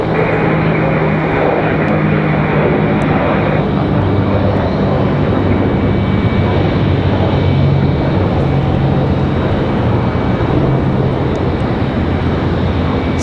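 A fixed-wing airplane departs from Raleigh Durham International Airport, its engine roar broad, loud and continuous throughout at fairly close range, with no voices over it.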